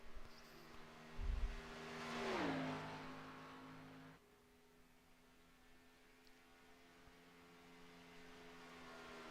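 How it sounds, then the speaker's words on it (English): Race car engine in a NASCAR Xfinity sim racing game at Chicagoland, a faint, steady tonal drone that sweeps down in pitch as the car shifts, then settles into a quieter constant hum. "Let's turn the audio for the cars on,"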